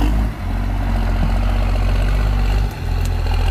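A heavy truck engine rumbling loud and close, a steady deep roar with brief dips where the revs drop and surge again.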